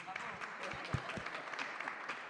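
An audience at a panel discussion on cultural patronage claps in a light, scattered round of applause, modest and somewhat distant.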